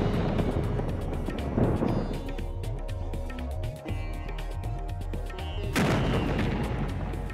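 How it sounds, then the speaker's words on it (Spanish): Small explosive charges going off in a stone quarry to split large slabs into smaller blocks, heard as heavy, booming blasts and rumbling over a dense, continuous background. "Estas pequeñas explosiones se utilizan para dividir los paños en bloques de menor tamaño"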